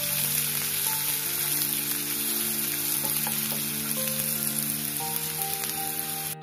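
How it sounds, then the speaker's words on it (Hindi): Chopped onion with cumin fries in a pan, giving a steady, close, crackling sizzle throughout. Soft sustained tones sit faintly underneath. "अच्छे से भून लेंगे।"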